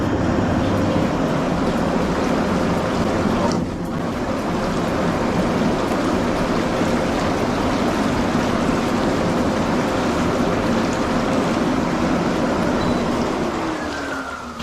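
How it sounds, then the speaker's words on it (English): An MSpa Alpine Delight inflatable hot tub runs its bubble function, giving a loud, steady rushing fizz of air bubbling through the water that continues unbroken from start to finish. "The bubble function, we'll just try that out now."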